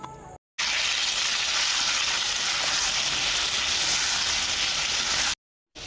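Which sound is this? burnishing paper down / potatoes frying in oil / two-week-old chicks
potatoes frying in oil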